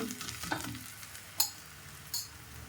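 Pearl millet and moong dal dosa batter sizzles softly on a hot pan, a steady frying hiss with a couple of brief sharper clicks as it is spread.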